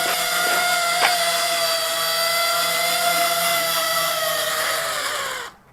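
A small multirotor drone's motors spin the propellers at high throttle, producing a loud, steady, tonal whine with layered harmonics that holds for several seconds, then cuts off abruptly at the end.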